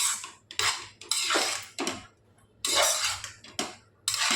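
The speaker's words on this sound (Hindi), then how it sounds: "और इसे ऊपर नीचे मिक्स करेंगे, इस तरह से मिक्स करके लेना है।" Vegetable Hakka noodles are tossed and stirred in a pan, with repeated close bursts of metal utensil scraping and clattering against the pan, roughly eight strokes with short pauses between, and no talk.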